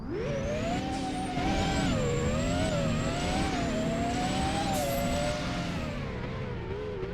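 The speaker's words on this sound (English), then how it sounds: "this is what the car sounds like when you're driving on the road" Car engine in the Driving Empire video game, a loud steady synthetic drone whose pitch rises and dips as the car drives along the road, with occasional high whines.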